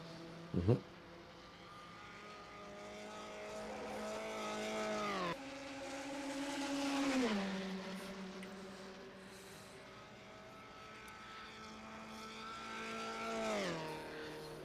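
Several 1958 Formula 1 race car engines pass at different pitches during the Belgian Grand Prix, their sustained whines sliding downward as they go by, with a loud rise around the middle and another near the end.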